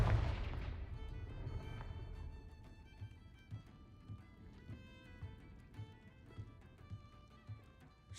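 Confringo blasting curse going off in a Hogwarts video game: a booming blast opens, then a rumbling tail with rhythmic thuds and crackling pops that fade into softer repeated impacts.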